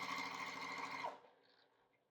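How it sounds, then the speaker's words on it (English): Sewing machine stitching quilt binding strips sewn right sides together, a fast steady close whir for about a second before it stops and fades to quiet room tone. "and I sew right across there."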